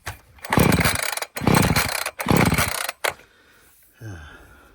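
Three loud, raspy pull-cord yanks on a chainsaw engine in quick succession, each a short burst, followed by quieter mechanical rattling; the engine does not catch.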